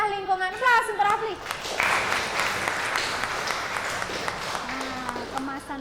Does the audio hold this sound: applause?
yes